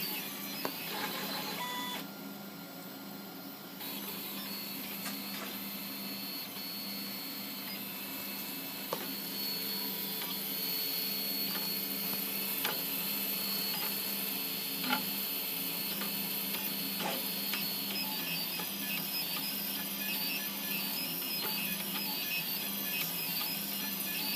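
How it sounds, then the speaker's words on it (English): A five-color 3D printer runs steadily, its stepper motors whirring and ticking in a continuous, moderately quiet mechanical drone with occasional small clicks. "There we go, it's printing away."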